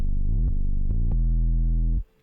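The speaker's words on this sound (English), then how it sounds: "So here it slides from a G4 to a G5." A trap beat synth in a trap beat glides upward from G4 to G5, the pitch sweeping into place before a held loud note that stops abruptly.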